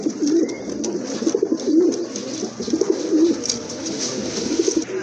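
Pigeons coo at a pigeon farm in Bangladesh, with soft low rolling coos repeating every second or so over a steady background hum, close by and moderately loud.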